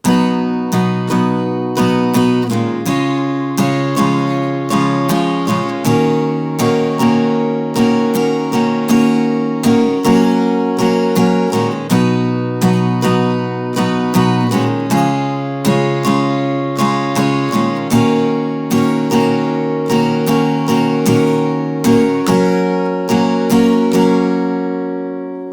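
Guitar playing an easy arrangement of a song, strummed chords in a steady, even rhythm, close and full, running continuously throughout with no voices.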